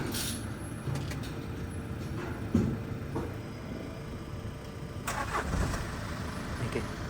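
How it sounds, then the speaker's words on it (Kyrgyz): A Hyundai Porter truck engine cranks and catches near the start, then settles into a steady, fairly loud running rumble with a few louder surges toward the end. "Сиздерге от алдырып көрсөтөйүн"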